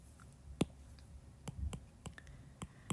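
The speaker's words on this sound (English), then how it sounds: "Just typing in my calculator." Fingers tap a calculator keypad: a series of faint, sharp, irregularly spaced clicks, around ten presses, alone over quiet room noise.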